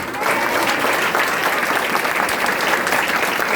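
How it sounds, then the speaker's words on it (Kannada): A church congregation at a prophetic prayer service claps loudly and steadily in sustained, dense applause, with voices mixed in. "ಗಟ್ಟಿಯಾಗಿ ಚಪ್ಪಾಳೆ ಹೊಡ್ತೀರಾ?"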